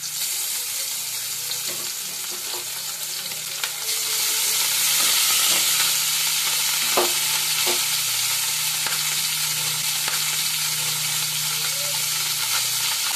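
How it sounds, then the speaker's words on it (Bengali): Small mourola fish sizzle in hot oil in a pan, a steady bright crackle with scattered pops and a few stirring clicks, close and continuous, growing a little louder partway through. "মাছগুলো ভেজে নেব"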